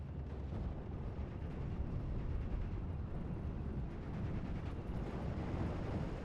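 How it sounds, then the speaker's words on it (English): FW-190 fighter-bombers drop bombs in the WWII strategy game Steel Division: Normandy 44, set around Caumont-l'Éventé. A dense, continuous roar of blasts and rumbling battle noise stays loud and unbroken throughout. "Bring up the FW-190 to drop bombs"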